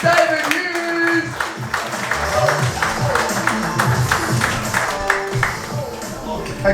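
A comedy club audience applauds a comedian coming onstage, with a busy spread of clapping and some crowd noise. Voices are mixed into the applause.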